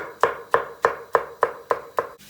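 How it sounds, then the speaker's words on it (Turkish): A knife chops tomatoes on a cutting board, seven evenly spaced sharp thuds in a steady rhythm, close and clear, with no voices. "Domateslerin hepsini doğrayacağım."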